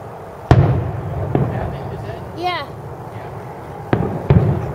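Several loud firework bangs with sharp cracks, spaced apart, plus a whistling rocket rising midway, with people chattering faintly in the background.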